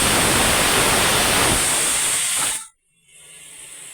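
A pressure cooker cooking mango vents steam in a loud, continuous close hiss that stops abruptly near the end, leaving a faint quiet background.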